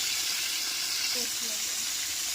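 Potatoes frying in a pan, a steady broadband sizzle filling the whole clip at moderate level, with faint tonal clinks or stirring touches partway through and no speech.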